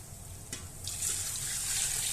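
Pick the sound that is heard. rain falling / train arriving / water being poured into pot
water being poured into pot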